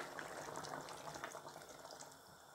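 Liquid broth pours into a pan of fish curry with raw and ripe tomatoes, a soft continuous splashing trickle heard close and fairly quiet.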